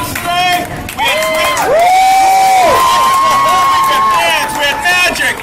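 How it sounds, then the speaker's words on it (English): A loud outdoor crowd at Shoreline Village cheers and whoops for street performers after a fire-breathing show, with high shouted and sung voices rising and falling over scattered clapping. "Give a round of applause for all the great performers that were connected to this today"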